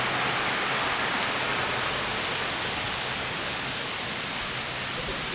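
Steady broadband rush of water from a waterfall among garden plants in the Singapore Botanic Gardens, continuous and fairly loud with no voices over it.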